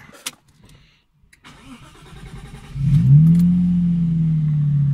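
A Lexus IS200 running on a Speeduino ECU cranks briefly and catches, settling into a loud, steady idle that continues to the end, with some faint clatter before the start.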